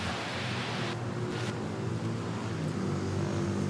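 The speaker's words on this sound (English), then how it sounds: "flying overhead is a flight from Caticlan to Clark naman" A propeller airliner on a flight from Caticlan to Clark passes overhead near Manila Airport, a steady low droning hum with a slight swell, continuous and fairly distant, with no talk.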